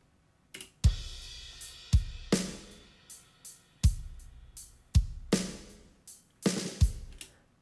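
An isolated drum track from a cover mix, treated with a stereo compressor and de-esser: kick and snare hits land in a steady, moderate groove, each hit sharp and close with short decays.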